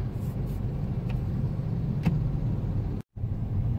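Morning traffic in the Masinag area rumbles past in a steady low roar of car engines, with a brief dropout near the end and no talk.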